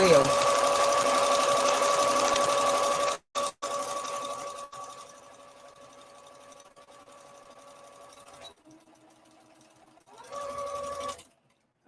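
Sewing machine back stitching a seam on a scuba knit skater skirt: a sustained motor hum broken by brief pauses, quieter steady running in the middle, then a loud final burst before stopping.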